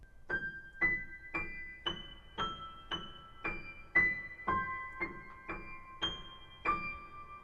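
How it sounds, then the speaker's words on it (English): Piano plays the intro melody of a song as a steady run of single struck notes, each ringing briefly before the next, soft and close with no voices. "we'll start out with that iconic intro melody played on a Celeste on the recording"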